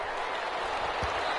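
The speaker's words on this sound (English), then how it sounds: "How about some applause for the defense there?" Stadium crowd applauding at an NFL Bears versus Rams football game after a defensive stop, a steady broadband wash of clapping and cheering with no gaps, a brief low thump near the end.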